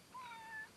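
An indoor cat gives a single drawn-out meow lasting just over half a second, clear and fairly close against a quiet background, asking to be let outside.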